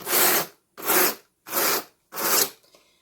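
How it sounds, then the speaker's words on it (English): Four even, rhythmic rasping strokes of layered bamboo fiber being burnished while building rolags, each about half a second long with brief silent gaps, close and fairly loud, and no talk. "I find it easiest to burnish every single layer."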